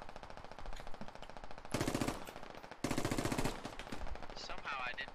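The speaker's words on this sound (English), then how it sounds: "I got wrecked by a machine gun" Machine gun fire in the military shooter game Squad, rapid steady bursts of automatic shots with a couple of louder, closer stretches, continuous and dominating the mix.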